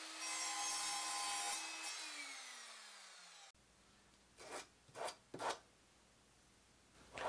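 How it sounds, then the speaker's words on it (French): A radial arm saw with a blade for wood, some plastics and non-ferrous metals winds down with a fading whine after cutting a rounded wooden stick into four equal parts. Three short, quiet rasping bursts follow in the workshop. "Un petit coup de scie radial et mon bâton arrondi est divisé en 4 parts égales."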